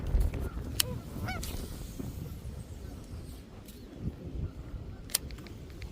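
Geese honk intermittently at a distance, a few scattered calls over a low rumbling outdoor background.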